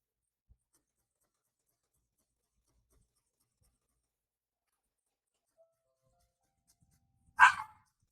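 A single sharp dog bark breaks a long near-silence indoors at home, loud and close, apparently set off by someone at the front door.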